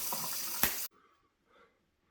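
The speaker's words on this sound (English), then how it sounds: "You must have just turned the water on." Tap water running from a faucet fed through a newly installed Glacier Fresh under-sink filter, a bright, steady splash for under a second that cuts off abruptly, followed by quiet with faint room sounds.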